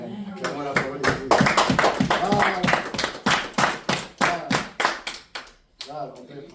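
A church congregation claps in quick rhythmic bursts to acclaim the word of God, sharp and close, with a voice faintly heard through the applause.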